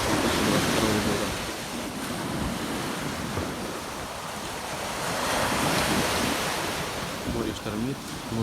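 Stormy Sea of Azov surf crashes and hisses in a continuous wash of breaking waves, with gusting wind buffeting the microphone as the roar swells and eases.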